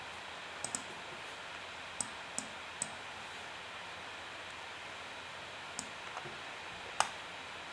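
A computer mouse being clicked while plotting trigonometric functions, heard as sparse, quiet single and double clicks separated by gaps of near silence.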